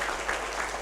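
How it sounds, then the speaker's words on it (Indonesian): Students clap for a classmate during a school food-policy session, a short burst of soft, fairly distant applause from a group of children. "tepuk tangan untuk temanmu"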